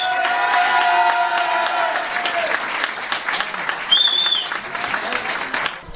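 Applause from an audience honouring a new French junior girls' champion at a national sport shooting championship in Moulins, steady and moderately loud, with a voice speaking over it at first.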